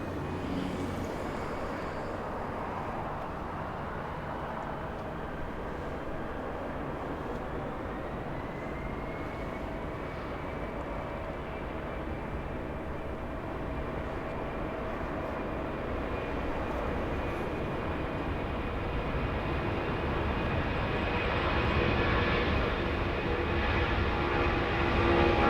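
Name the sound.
Boeing 747 Air Force 2 taking off at LAX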